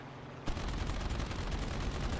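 Aircraft strafing fire in a video game strikes an AMX-13 tank: after a brief quieter lead-in, a loud, dense burst of rapid machine-gun fire starts abruptly and runs continuously to the end.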